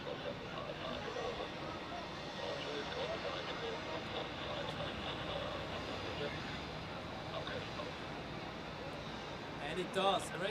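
Airliner taxiing on the inner taxiway at Zurich airport, heard from an observation deck as a steady broadband engine rumble that fills the whole stretch, with faint crowd chatter underneath.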